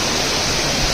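Cold clear water flows in a stream with a loud, steady broadband rush close by, unbroken for under a second.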